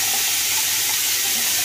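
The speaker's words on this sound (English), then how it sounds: "the cold water rinse to soothe my skin" A bathroom tap runs cold water for a rinse after shaving, giving a steady, close, hissing splash with no voices.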